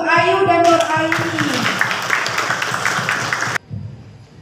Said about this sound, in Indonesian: Tepuk tangan untuk Ayu dan Nuraini.